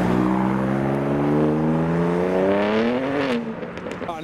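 A BMW M2 drives off from a car show, its engine note climbing in pitch as it accelerates, loud and close, then easing off toward the end.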